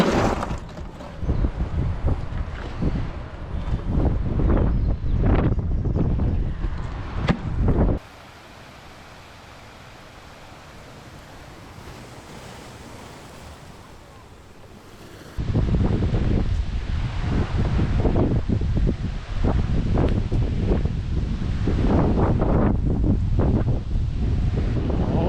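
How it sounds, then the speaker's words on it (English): Strong gusts beside a big river below a dam roar and buffet the microphone continuously, easing to a duller steady rush in the middle stretch before battering loudly again. "The wind has really picked up."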